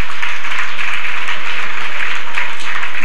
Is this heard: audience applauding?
yes